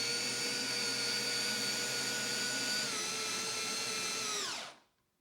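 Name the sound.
drill with attachment raising a platform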